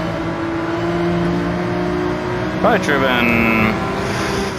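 A Porsche 911 RSR race car engine in Gran Turismo 7 at Mount Panorama drones steadily at high revs, then shifts and rises sharply partway through, loud and continuous.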